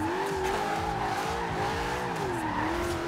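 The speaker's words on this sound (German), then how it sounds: "Und ich werde jetzt einfach mal ein bisschen driften" Ford Mustang drifting in Forza Horizon 2, with a sustained, wavering tire screech over a loud, steady engine roar, close and continuous throughout, without talk.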